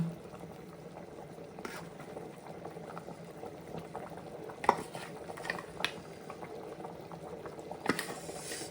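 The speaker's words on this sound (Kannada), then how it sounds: "ಈ ಥರ ನೀರು ಕುದೀತಿರ್ತದಲ್ಲ" Water bubbling at a rolling boil in a pot, ready for eggs to be added, a steady close simmer with a few sharp clinks of utensils against metal.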